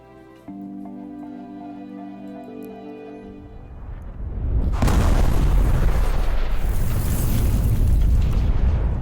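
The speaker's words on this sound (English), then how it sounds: "So just a flat-out bomb." A bomb explosion in the video game Liberated bursts in after a few seconds of quiet droning music, becoming a loud, sustained roaring rumble that fills the rest of the clip.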